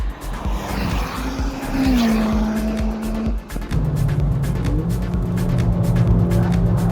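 Car driven fast on the Knockhill race track during a track day, a loud engine drone that shifts pitch with gear changes, along with tire squeal and rushing wind noise, close and continuous.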